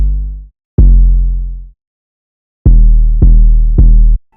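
An 808 bass beat programmed in FL Studio, heavy booming bass notes with short decays: two hits, a pause, then three evenly spaced hits, loud and dry.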